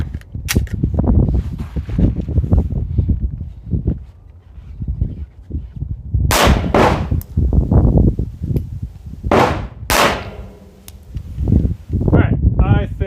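A few sharp gunshots from a handgun fitted with a red dot sight while it is being sighted in, two loud close cracks a few seconds apart, with someone talking over much of the clip.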